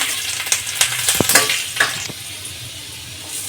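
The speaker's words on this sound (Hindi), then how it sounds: "अब हम लहसुन डाल देंगे, लहसुन को थोड़ा तड़कने देंगे।" Oil sizzles and crackles steadily as garlic fries for street-style veg fried rice, with a few sharp clinks of a utensil against the pan, close and fairly loud.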